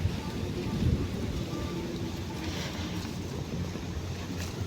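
Light rain falls outdoors at night, a steady broadband patter and hiss across the whole clip, with faint voices under it.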